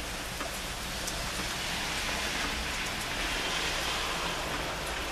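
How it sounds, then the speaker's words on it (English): Steady rain falls on a surface, a dense, even hiss of raindrops with scattered individual drop ticks, constant and fairly loud throughout. "The surface of that raindrop noise"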